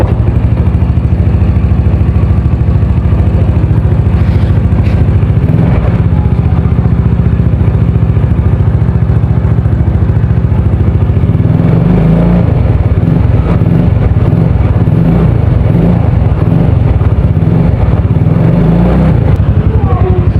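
A modified Jupiter Z motorcycle engine idles loudly and steadily up close, then revs in uneven bursts during the second half.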